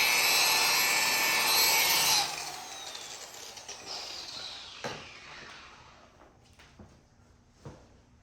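Rubbing compound worked by hand onto motorcycle paint to remove scratches, a steady loud rubbing hiss for about two seconds that fades into softer scattered strokes and light taps.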